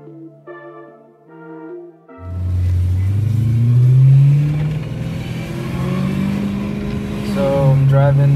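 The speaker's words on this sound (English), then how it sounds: "We're riding in Brandon's car, his M3, and we're about to bed in the brakes on the freeway." A BMW M3 rolls along a freeway with steady, loud road and engine drone that swells slightly as it pulls; a voice talks quietly over it before the car noise takes over.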